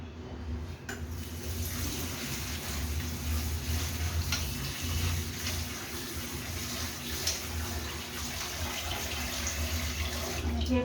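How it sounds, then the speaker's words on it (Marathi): Thick poha (flattened rice) is washed in plenty of water, a steady, close stream of running and sloshing water that carries on unbroken throughout. "भरपूर पाण्यामध्ये हे चांगले स्वच्छ असे धुवून काढायचे"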